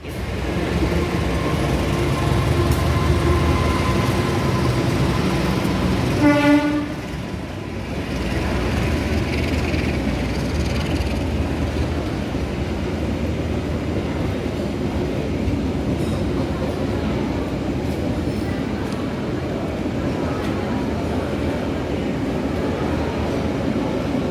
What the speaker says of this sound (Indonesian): Ada kereta apa aja yang akan melintas di stasiun Lempuyangan